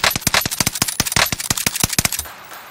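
Rapid automatic gunfire in the video game Warzone, a close, loud string of about twenty sharp shots in an uneven stuttering rhythm that stops abruptly, leaving a brief quiet tail.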